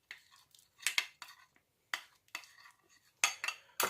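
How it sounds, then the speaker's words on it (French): A pastry brush spreads melted butter over a loaf cake mould for an orange cake, making short, scratchy strokes in uneven bursts with brief quiet gaps between them, close and fairly soft. "Donc à l'aide d'un pinceau, nous allons venir appliquer du beurre sur toute la surface du moule."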